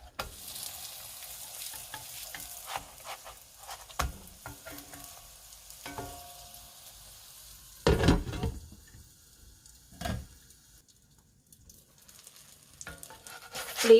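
A Chinese chive-egg pie fries on low heat in a lidded pan, a steady soft sizzle with occasional louder scrapes and clatters of the pan and spatula.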